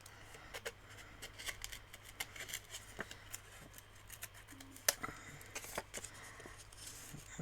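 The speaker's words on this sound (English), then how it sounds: "I'm just going to cut out this little hole." Small scissors nibble a little hole out of card stock for a handmade travel card, giving a steady run of quick, close snips and faint paper rustles at an even, unhurried pace.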